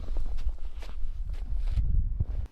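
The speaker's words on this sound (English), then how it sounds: "Then he hears footsteps, faint at first, but close enough to stop him in his tracks." Footsteps move through a forest at night, a steady run of soft crunching treads on leaves and ground, fairly close and loud, with brief louder impacts and no talking.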